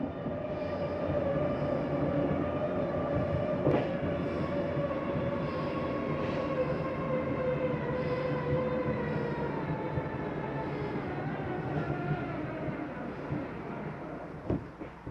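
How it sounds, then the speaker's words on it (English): Motorized bed slide on a 2021 Columbus River Ranch 390RL RV retracting, a steady droning motor hum with mechanical whine that continues unbroken for the full stretch, a few faint clicks along the way. "Hit bed slide. Hit minus for bringing it in. It tells you right there. Bed slide is moving in."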